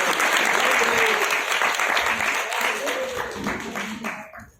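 An audience applauds after a Bhagavad Gita chapter reading at a devotional gathering, with dense, lively clapping that starts loud and gradually thins and fades toward the end, and some voices mixed in.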